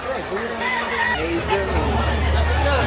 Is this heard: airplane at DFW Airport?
no